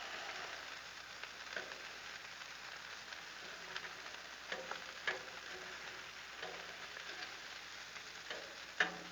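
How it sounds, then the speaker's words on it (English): Bacon sizzles steadily on a Blackstone griddle, a continuous crackling hiss with occasional sharper pops and scrape-like clicks as the strips are flipped, fairly quiet with no talking. "I'm gonna give this bacon another flip real quick."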